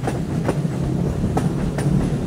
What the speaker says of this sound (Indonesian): Komuter lain ekonomi Bandung Raya saat ini sudah memasuki stasiun kereta api Bandung dari arah barat.